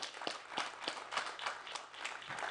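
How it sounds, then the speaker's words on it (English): An audience applauds veterans with steady scattered clapping, faint and somewhat distant. "Round of applause for our veterans."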